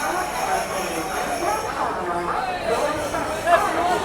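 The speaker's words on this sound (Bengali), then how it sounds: "আর ওদিকে একটা এক্সপ্রেস ঢুকছে WAP7 ইঞ্জিন নিয়ে।" Express train hauled by a WAP7 electric locomotive rolling into a busy suburban railway station, a steady rumble of wheels and carriages with crowd chatter around it.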